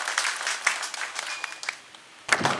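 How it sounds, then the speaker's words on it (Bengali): An audience at a political gathering claps to welcome the chief guest, a dense crackle of applause that fades briefly before another burst near the end, heard at a moderate distance. "আজকের মাননীয় প্রধান অতিথিকে আমরা করতালির মাধ্যমে স্বাগত"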